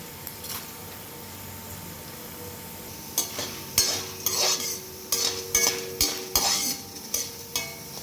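Coriander seeds, pepper and cumin frying in a pan, a quiet sizzle that runs throughout under a series of sharp, close scrapes and clinks of a spoon stirring against the pan, coming in a steady rhythm in the second half.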